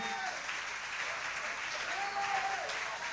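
Congregation in a church applauding the Lord, a steady, dense wash of clapping that stays loud and even throughout, with a faint voice rising briefly above the crowd.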